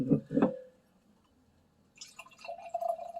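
Level Crossing beer from South Salt Lake, Utah is poured into a glass, with a couple of clinks and drips first, a quiet pause, then a soft, rising trickle and fizz of liquid filling.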